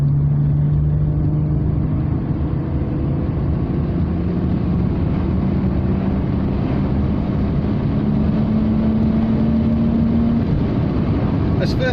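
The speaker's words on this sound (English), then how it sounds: "I just put my foot down until it revs like crazy, and then you accelerate" A Rover 45 V6 engine drones loudly and continuously under hard acceleration, its pitch climbing steadily as it revs up, heard from close by.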